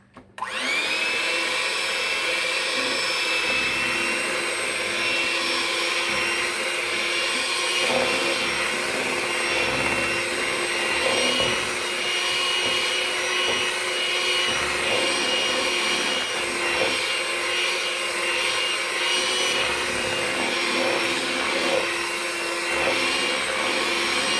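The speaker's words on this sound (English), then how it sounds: "And we're going to go ahead and blend this up." A blender whirs steadily as it blends melted margarine for a strawberry parfait, a continuous, fairly loud motor hum running without a break from start to finish.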